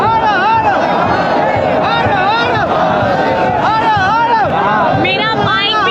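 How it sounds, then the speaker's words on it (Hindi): A dense, packed crowd at the Mahakumbh during the Naga sadhus' royal bath, close and loud, with many overlapping shouting and chanting voices in constant jostling commotion. "मैं तो उसी भीड़ के बीच में हूँ।"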